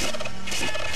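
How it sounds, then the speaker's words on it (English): Chicken clucking from the SNES game The Legend of Zelda: A Link to the Past, a distorted, glitchy-sounding cackle with repeated squawks, loud and steady across the short stretch. "Damn, the chicken sounds screwed up."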